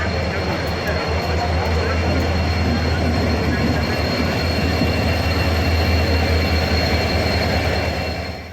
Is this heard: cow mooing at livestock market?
no